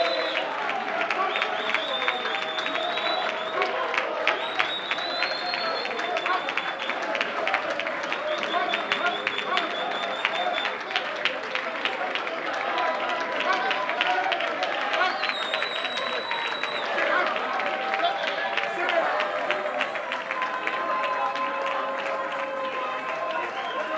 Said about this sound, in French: Et nous le faisons par des acclamations.